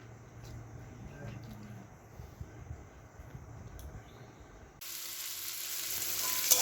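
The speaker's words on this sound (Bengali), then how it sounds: "আর এখন একটু পেঁয়াজ রসুন ভেজে নিচ্ছি" Onion and garlic frying in a pan, a bright hiss that jumps in loudly partway through after quieter kitchen sounds with some voice in the background, close and steady.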